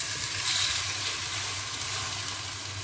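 Chopped onions sizzle as they fry in a pot for a homestyle chicken and potato stew, a soft continuous crackling hiss, fairly quiet and steady, with no talking.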